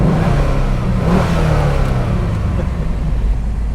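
A 1995 Chevrolet Camaro 35th Anniversary on a test drive revs loudly and close, a continuous engine roar with a rising surge and steady road noise over a few seconds.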